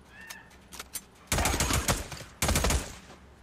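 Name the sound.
gunfire from the video game Days Gone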